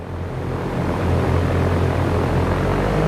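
An aircraft engine throttles up to takeoff power in X-Plane 11, a loud, steady propeller drone that swells in the first second and then holds a thick, continuous roar.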